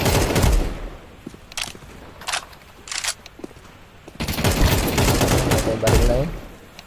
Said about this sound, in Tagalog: Baril na yun.